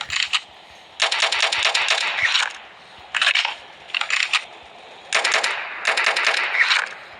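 Rapid automatic gunfire in a video game comes in several loud, close bursts of fast cracking shots separated by short pauses, with faint low background noise between bursts.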